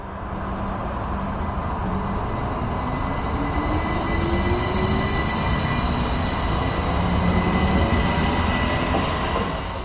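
A British Rail Class 333 electric train runs along the line, a steady loud rolling rumble with a sustained whining motor tone that slowly rises and shifts, plus faint wheel squeal, with no talking.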